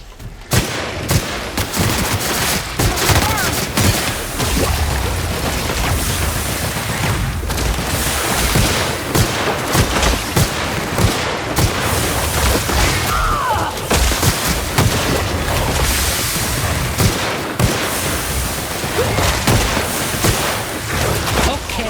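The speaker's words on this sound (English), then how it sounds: "This pistol is doing a lot of damage." Pistol fire from The Outer Worlds video game, a dense, loud barrage of repeated shots and impacts that runs nearly nonstop, layered with other combat noise.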